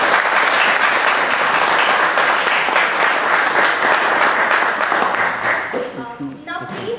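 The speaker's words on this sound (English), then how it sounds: "Please give a big round of applause to them." An audience at a university IEEE job discussion panel applauds the guests, loud sustained clapping that tapers off over the last second as a voice begins talking.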